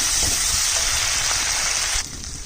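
Ripe and dried red chili paste hitting hot oil in a pan for a katla fish curry, a loud dense sizzle that holds steady, then drops sharply near the end as the frying quiets.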